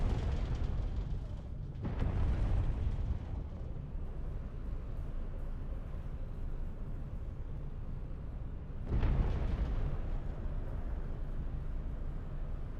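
Anti-aircraft turret fire striking a ship in a space combat video game, heard as a steady low roaring rumble with two louder bursts of impact near the start and again later.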